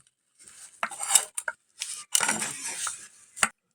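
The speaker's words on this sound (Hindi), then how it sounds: "आलू हमारा गरम है तो इसीलिए हम यहाँ पर चम्मच से मैस रहे हैं" A metal spoon scrapes, clinks and taps against a bowl while mashing hot boiled potatoes for a chokha dish, in short irregular bursts with brief gaps and no talk.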